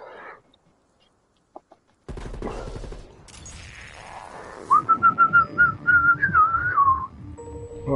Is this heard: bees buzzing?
no